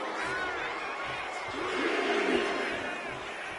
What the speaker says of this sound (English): And Rocky is revving this crowd up.